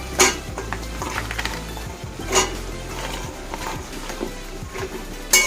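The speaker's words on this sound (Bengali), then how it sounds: "সবজিটা এখন কষাই নেব।" Winter vegetables sautéing in a pan of cooked-down spiced masala for a rohu fish curry, with a steady low sizzle broken by repeated clinks and scrapes of a spoon stirring against the pot.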